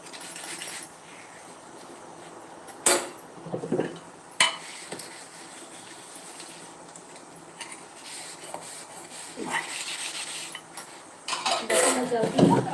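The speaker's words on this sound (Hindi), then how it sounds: "बर्तन निपटा लूँ।" Dishes, pots and cutlery being washed in a home kitchen, with scattered clinks and scrapes of utensils against cookware and a busier stretch of clattering near the end, close and moderately loud.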